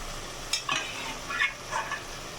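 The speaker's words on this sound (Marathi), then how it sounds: "मी मटण टाकून घेते त्याच्यामध्ये, म्हणजे ह्या मटणाला सुद्धा तो मसाला लागतो आणि मसाला पण फ्राय होतो" Mutton pieces fry in masala in a pan, a soft continuous sizzle broken by a few scraping stirs of a spatula, close and moderately loud.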